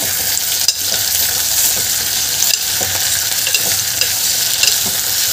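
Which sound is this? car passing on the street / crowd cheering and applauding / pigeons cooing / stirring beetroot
stirring beetroot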